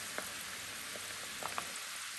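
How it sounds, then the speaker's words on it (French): Almonds frying in hot oil as they turn golden give a steady, dense sizzle throughout, broken by a few scattered pops and crackles. Close and even, with no voices. "Là, je les laisse encore un tout petit peu dorer."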